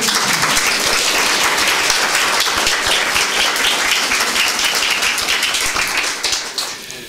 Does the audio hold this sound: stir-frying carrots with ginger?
no